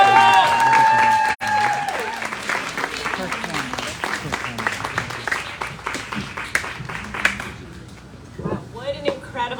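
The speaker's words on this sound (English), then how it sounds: "Give a round of applause for Neblinas del Pacifico!" An audience at a book launch party at El Rio in San Francisco applauds for the act Neblinas del Pacifico, a steady round of clapping and cheering under a speaker's voice, fading out near the end.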